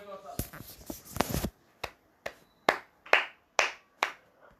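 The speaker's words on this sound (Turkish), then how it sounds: "Alkışlıyorum" Hands clap indoors: a brief flurry of rustling and quick claps, then about seven single claps at a slow, steady rhythm, close and crisp.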